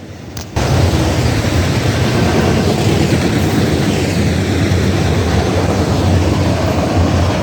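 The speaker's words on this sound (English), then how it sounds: "Here comes the Southern Pacific Arterac." An eastbound Southern Pacific Arterac freight train rolls past close by, a loud, steady roar of wheels and rumble that starts abruptly and holds for the whole stretch.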